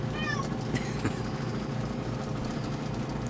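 A cat meows in a short, faint rising call near the start, under a steady low rumble of engine-like background noise.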